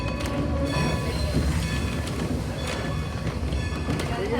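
Thomas the Tank Engine steam locomotive, with a big boiler and a P&R 972 tender, pulling away with its coach; a steady, loud rumble of rolling wheels and rail clatter runs throughout with no speech.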